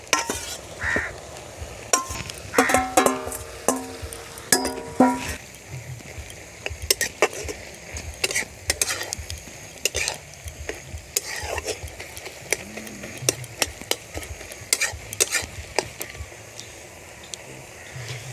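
Fried shrimp stirred into Malabar spinach stems cooking in a pan: irregular spatula clinks and scrapes against the metal over a soft, continuous sizzle.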